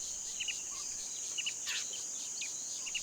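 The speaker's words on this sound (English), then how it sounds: "The only thing breaking the peace is the incessant screeching of cicadas." Cicadas in African bush habitat keep up a steady, high insect drone throughout, with a few brief chirps and bird calls layered over the continuous buzz.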